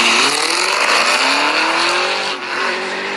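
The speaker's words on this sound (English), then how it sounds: "Little Mustang getting after it there." A 2003 Mustang Cobra launches hard in no-prep drag racing, its loud engine revving and climbing in pitch with tire squeal, close and steady for a few seconds before a brief dip and continued roar.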